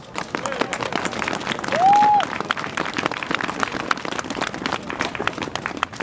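Demonstrators at an outdoor rally defending the Kyoto Protocol clap for themselves, a busy spread of hand claps mixed with crowd noise and scattered voices, with a brief whistle-like tone near the two-second mark.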